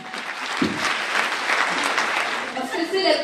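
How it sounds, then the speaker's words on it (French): Audience applause greets a speaker at a conference, steady continuous clapping from a crowd lasting a few seconds, with a brief voice heard over it. "On l'applaudit."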